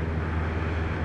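Steady droning roar of an airplane engine heard from inside the cabin in flight, loud, continuous and unbroken, with no voices over it.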